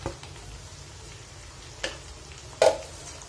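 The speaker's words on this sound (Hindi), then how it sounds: "अब इसको धीरे धीरे करके मिक्स करते जाएंगे" Methi bhaji leaves with browned minced meat being stirred in a pan, a low steady sizzle with two brief scraping clicks of the spoon near the end, close and fairly quiet, no talking.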